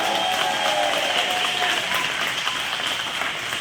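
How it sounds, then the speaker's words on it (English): A graduation ceremony audience applauding, a dense sustained wash of clapping from a large crowd indoors, loud and even across the whole stretch. "Let's give them a round of applause."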